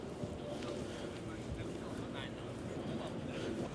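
Strong, cold wind by the sea in Norway roars steadily and loudly across the microphone, buffeting it in a continuous dense rumble with faint voices underneath.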